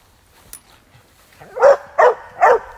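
A dog gives three loud, close barks with a whiny, whimpering edge in quick succession, after a quiet stretch with faint rustling and a small knock.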